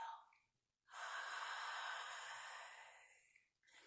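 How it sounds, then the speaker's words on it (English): A long, steady breath exhaled through the nose with a soft, rushing ocean-like hiss, sustained for a few seconds after a brief pause. "exhale through your nose, making an ocean sound"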